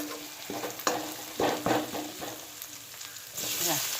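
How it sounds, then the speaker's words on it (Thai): Chili and garlic stir-frying in a pan before mussels go in, a steady sizzle broken by several sharp scrapes and clatters of the spatula, close and moderately loud. "ผัดพริกให้หอมก่อน แล้วค่อยเตรียมใส่หอยลงไปค่ะ"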